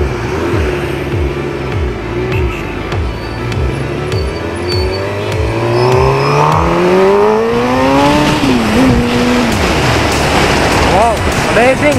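Suzuki GSX-R 600 motorcycle exhaust while riding, loud and close, with repeated rising rev sweeps through several gear shifts and a strong, steady wind rush underneath.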